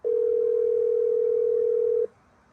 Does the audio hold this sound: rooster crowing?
no